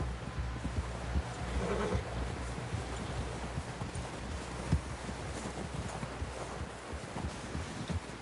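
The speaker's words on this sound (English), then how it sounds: "Someone help John down off this horse" Horse hooves clip-clop over wind noise in the video game Red Dead Redemption 2, with scattered thuds and a soft whinny, fairly faint overall.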